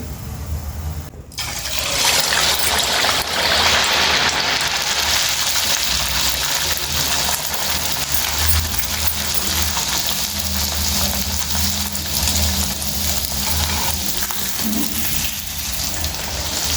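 Halwa pooris frying in a pan of hot oil give a loud, continuous crackling sizzle with spattering that holds steady for the whole stretch, close up and with no talk.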